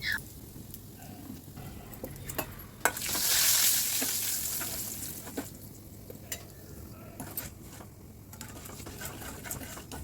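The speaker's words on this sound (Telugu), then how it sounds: "అందుకే తాలింపు గింజలు కూడా వేసేసాను ఈ తాలింపు గింజలతో పాటు కొద్దిగా ఇంగువను కూడా దట్టించేయండి" Mustard and other tempering seeds crackle and fry with a pinch of asafoetida in hot oil in a steel pan, a steady close sizzle with a louder hiss swelling briefly near the middle and light stirring scrapes, no voices.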